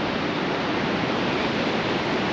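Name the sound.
ocean waves surfing on a beach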